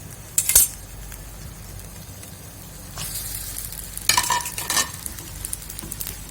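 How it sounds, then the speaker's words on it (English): Fettuccine goes into a pan for a creamy sambal tempoyak sauce and is stirred, with soft sizzling under scraping, clinking utensil strokes in a few bursts, close by and with no voices. "Now I'm going to put in my pasta."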